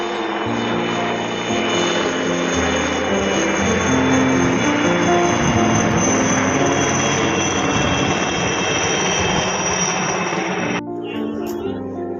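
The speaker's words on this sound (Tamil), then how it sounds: "ஹெலிகாப்டர்" A loud, steady whirring helicopter engine roar close by in Daman, droning continuously for most of the clip before cutting out near the end.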